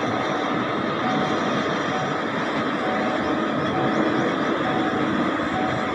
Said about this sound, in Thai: รถไฟมุ่งหน้าเข้ากรุงเทพครับ